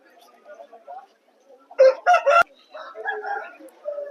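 A rooster crows loudly once, nearby, between softer clucking and murmuring sounds before and after.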